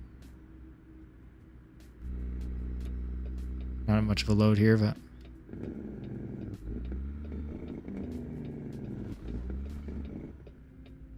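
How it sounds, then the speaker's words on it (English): Scania truck with a V8 engine mod in American Truck Simulator, lightly loaded, its engine brake firing in a loud, rough, staccato bark over a deep droning idle, with someone talking over it. "Wait till you hear the Jake break here."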